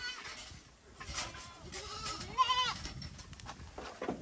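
A goat bleats in a wavering cry at close range, amid rustling and faint farmyard noise.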